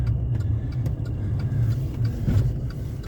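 Car crawling through deep snow in four-wheel drive on winter tires, its engine a steady low rumble that swells briefly, close and continuous with no talk.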